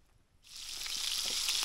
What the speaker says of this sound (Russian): Сейчас будем жарить с Алексеем картошку.